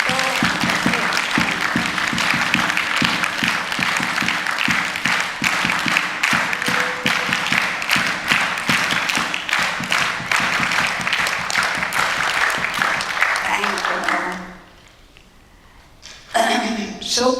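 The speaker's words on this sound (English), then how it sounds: "give them a big clap" An audience at a gathering bursts into sustained, dense applause for children, loud and steady for most of the stretch before fading out, with talk resuming at the end.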